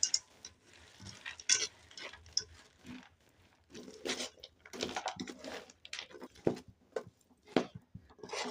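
Peanuts being stirred into hot jaggery syrup in a pan for crisp chikki, giving irregular scraping and clattering strokes with faint sizzling between them, close and fairly quiet, with no talk.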